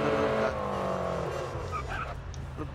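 A racing car in the Grid Autosport driving game, its engine droning with shifting tones while the tyres skid and squeal, all fairly loud, with brief voice-like sounds mixed in.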